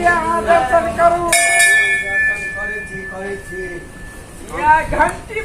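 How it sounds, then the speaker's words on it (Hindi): A temple bell in a Mahadev (Shiva) shrine strikes once, a bright ringing tone that sustains and slowly fades beneath ongoing voices of people talking nearby. "या घंटी बजलिए"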